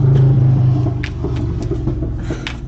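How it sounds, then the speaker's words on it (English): A low, rumbling vehicle passes close by, loud at first then easing off, with faint road noise trailing behind. "Sorry about the traffic."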